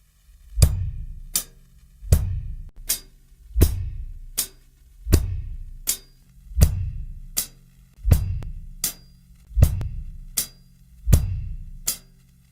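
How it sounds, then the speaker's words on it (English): A close drum kit repeats a simple groove of hi-hat struck together with the bass drum, alternating with lone hi-hat hits in an even eighth-note pulse, steady and dry, with nothing else heard. "Just play the hi-hat with the bass."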